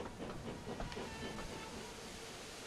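Train station ambience in the Thomas & Friends: Wonder video game, a steady faint wash of hissing, rumbling railway noise with soft clatter, no voices.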